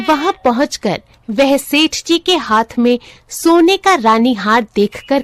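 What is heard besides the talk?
No everyday noises stand out.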